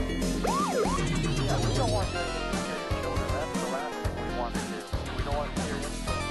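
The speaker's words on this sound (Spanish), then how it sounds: "A police car." A police car siren wails with rising and falling tones amid a busy, music-like mix, running continuously and fairly loud throughout.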